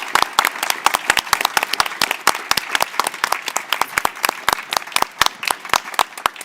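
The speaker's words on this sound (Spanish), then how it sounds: "pedirles un fuerte aplauso para Cuauhtémoc Medina, Gerardo Mosquera" An audience at an art event applauds with steady, dense clapping throughout, many individual hand claps close and distinct, with no talking over it.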